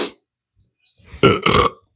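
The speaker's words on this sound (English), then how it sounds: "Pepper burp." A loud, close burp after eating hot Ojos Rojos peppers, a single drawn-out belch heard alone.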